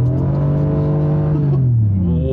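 A loud engine roars as a 2020 Karma GT Revero accelerates hard from about 30, its pitch climbing steadily before dipping at a gear change, heard close up from inside.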